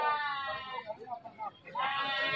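Goats, including Jawarandu and PE breeds, bleat at a village livestock market in Kaliwiro, Wonosobo, Central Java, sounding repeated, wavering and fairly close through most of the stretch, with a short dip in the middle.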